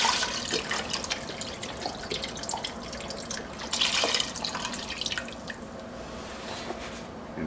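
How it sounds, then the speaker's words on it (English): Beef stock, 32 ounces, poured into a stock pot for beef barley soup, a faint continuous splashing trickle with brief louder gushes around the middle, heard alone without speech. "we're going to add 32 ounces of beef stock right to our stock pot here"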